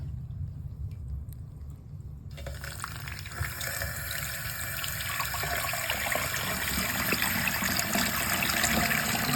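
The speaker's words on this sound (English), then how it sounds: "The water's on. Let's test it out." After a couple of seconds of low hum, a newly installed bathroom faucet opens and water gushes steadily, loud and close, splashing continuously to the end.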